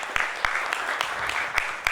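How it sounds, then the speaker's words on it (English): Brief burst of audience applause for panelists at an FMCG supply chain summit, dense clapping with a few sharper individual claps standing out, steady and fairly close. "let's firstly give them a huge round of applause"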